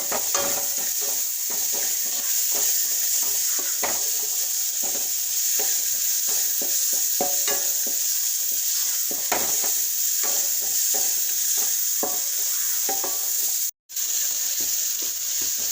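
Crushed ingredients for a pickle fry in hot oil with a continuous sizzle, while a utensil repeatedly scrapes and stirs through the pan in irregular clicks.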